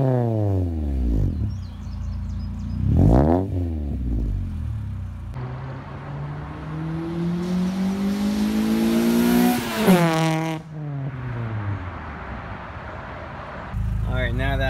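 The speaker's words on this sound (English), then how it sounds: "I can show you an exhaust clip real quick and let you see how it sounds" Loud 1996 Honda Prelude Si VTEC with a DC Sports header and aftermarket exhaust, revving and accelerating in rising, sweeping pulls with a high VTEC wail, then dropping back to idle before another rev near the end.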